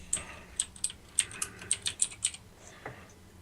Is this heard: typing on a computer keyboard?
yes